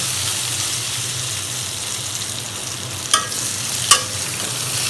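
Constant loud sizzle of vegetables frying in a pan, broken by two sharp metallic scrapes from stirring near the end.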